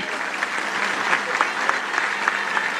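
An audience applauding to welcome Bhim Army founder Chandrashekhar Azad at a Dalit Panther gathering, a steady wash of crowd clapping with individual sharp claps popping out.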